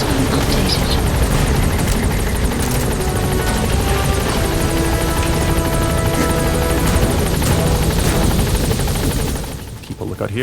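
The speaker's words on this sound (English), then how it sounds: "Support helicopter has arrived." A support helicopter roars close overhead as it arrives at a landing zone in Metal Gear Solid V: The Phantom Pain. The rotor thrum is heavy and sustained, with voices talking over it and music underneath, easing slightly at the very end.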